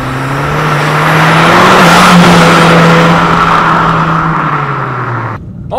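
A 2008 Dodge Caliber SRT-4 with a 300-horsepower turbocharged four-cylinder accelerates hard, its loud, steady engine drone rising in pitch and holding strong for several seconds before easing off near the end, with no talk over it.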